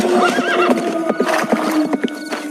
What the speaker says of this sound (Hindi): घोड़े पर सवार होकर ज्ञानचंद दूसरे राज्य की सीमा में चला गया